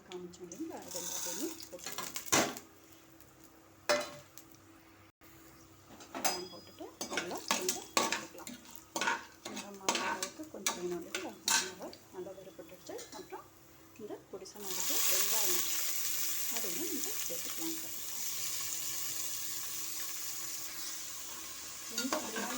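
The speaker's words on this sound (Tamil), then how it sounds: "வெங்காயம் வந்துட்டு கொஞ்சம் நல்ல கலர் சேஞ்ச் ஆகிற வரைக்கும் நம்ம வதக்கணும்" Onions with chana dal and urad dal sautéing in a pan for coconut masala rice: repeated stirring scrapes and clinks over a soft sizzle, close by, then the sizzle swells into a louder, steady frying hiss.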